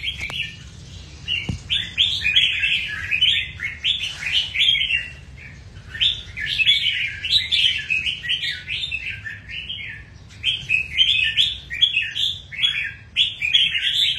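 Caged songbirds kept indoors chirp in rapid bright bursts, repeating in waves over a low steady background hum.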